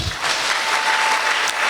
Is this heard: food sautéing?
no